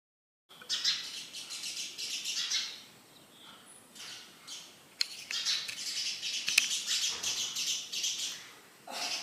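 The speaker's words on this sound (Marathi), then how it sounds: "त्या डब्यामध्ये तांदूळ टाकलेले आहेत ते चिमण्या खातात उडून जातात" Sparrows chirp busily close by while feeding on rice, a dense stream of shrill tweets and squawks that rises and falls in bursts.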